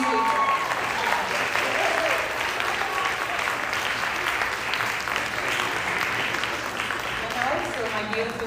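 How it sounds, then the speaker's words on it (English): Audience applauding at a Bharatanatyam arangetram dance recital, sustained even clapping from a crowd throughout, with voices talking faintly underneath. "Please give us a round of applause."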